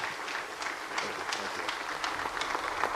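An audience claps for a panel after a discussion at a clean energy and winter sports session, steady applause throughout, fairly close and without pauses.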